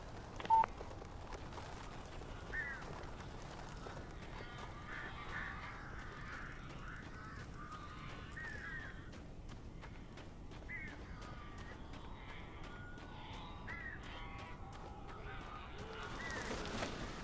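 Crows caw intermittently in the Alan Wake video game, harsh calls repeating over a steady low ambient hum and brief electronic tones.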